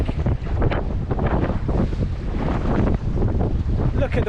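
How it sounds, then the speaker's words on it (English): Heavy wind buffets the microphone and big waves slap and rush around a motoring lugger boat on a lake, a dense, continuous roar of water and gusts that rises and falls throughout. "These are amongst the biggest waves I've seen on the lake"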